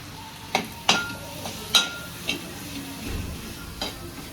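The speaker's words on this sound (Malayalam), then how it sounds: "ഇതിനെല്ലാം കൂടെ ഒന്ന് വഴറ്റിയെടുക്കാം." Ingredients for a taro stem curry are sautéed in a pan. A spatula taps and scrapes in a handful of sharp, irregular knocks over a soft, low sizzle, and nobody speaks.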